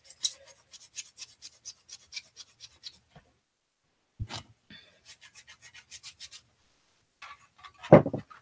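A magic eraser scrubs a hard surface in quick, rhythmic back-and-forth bursts, close and moderately loud. The strokes come in several runs broken by short pauses, and a louder thump sounds near the end.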